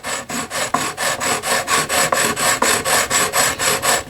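Sanding a G&L guitar fretboard beneath the strings with 220 grit sandpaper, brisk rhythmic back-and-forth rasping strokes, close and loud, about four strokes per second with no talking.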